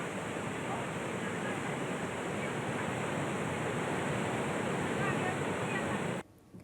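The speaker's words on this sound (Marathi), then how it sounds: "कृष्णा नदीच्या पाणी पातळीतही वाढ झाल्यामुळे मरढे गावच्या छोट्या पुलावरून पाणी गेलंय" Steady, loud rushing floodwater from the swollen Krishna River flows over a small bridge in Satara, India, roaring continuously as a dense broadband flow that cuts off abruptly near the end.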